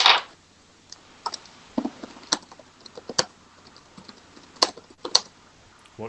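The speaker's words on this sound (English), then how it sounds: "Oh no, wait, he's typing." Computer keyboard typing heard alone as scattered bursts of clicks and key taps with irregular pauses, fairly close and moderately loud.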